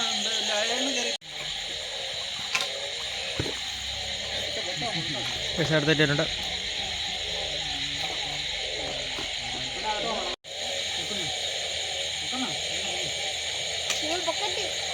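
A dense nighttime frog chorus near a fishing spot in rural Kerala, a steady layered croaking and trilling that fills the whole clip, with someone speaking briefly over it.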